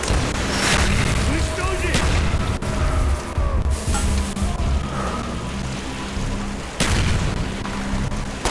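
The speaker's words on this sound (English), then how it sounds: "Throwing grenades!" Grenade explosions in Call of Duty Black Ops, loud booming blasts amid continuous battle noise, with heavy bangs near the start and around the seventh second and shouting voices over the din.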